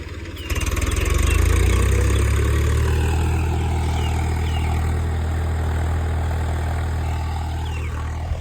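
Farm tractor engine running steadily near the field, a loud low rumble that rises as it revs up early, then settles into an even, continuous idle with no one speaking.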